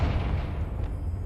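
A Confringo fire blast from the Hogwarts Legacy video game erupts as a dense, booming rumble that fills the whole short moment without a break.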